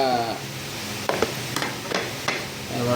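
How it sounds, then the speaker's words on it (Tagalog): Onions being stirred in a pan, with a spatula knocking against the pan several times and a soft sizzle underneath, close by and moderately loud, with no talk. "Ayan, yung sibuyas. Pagaluin na natin."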